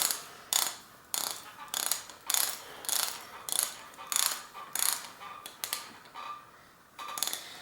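A socket ratchet with a 6-point socket tightens bolts on a RockShox Quadra 21R bicycle suspension fork, clicking in about a dozen quick, evenly spaced bursts up close.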